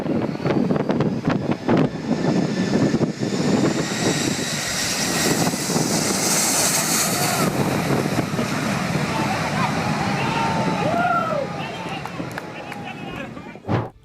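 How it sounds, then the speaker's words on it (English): A plane landing at Wellington Airport in New Zealand in strong winds, with steady loud engine and wind roar filling the whole stretch, buffeting rumble throughout and a voice talking over it. "Landing at Wellington Airport in New Zealand can be an exceptionally challenging experience due to the powerful winds that plague the region."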